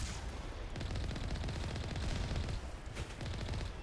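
A turret in Mass Effect Legendary Edition fires a dense, continuous burst of rapid automatic gunfire, loud and close throughout, with no speech.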